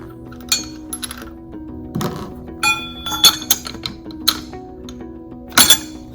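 Sharp metallic clanks as a power nut wrench is struck against a nut on an Ampco ZP1+ series pump during a seal change, several separate hits spread out, close and fairly loud.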